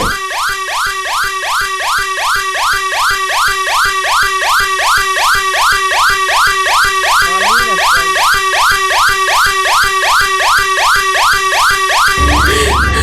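A loud wailing siren cycles rapidly and repeatedly, its rising-falling tone sustained throughout, close and piercing.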